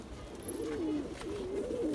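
Rampur pigeons coo nearby in soft, wavering low calls, two rolling phrases in quick succession over a faint background hum.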